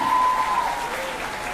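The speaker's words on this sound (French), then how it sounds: "Normalement, les applaudissements sont beaucoup plus relevés, il me semble" Brief, steady applause from a modest crowd at an Olympic torch relay event in Petit-Bourg, a continuous patter of clapping that stays fairly even.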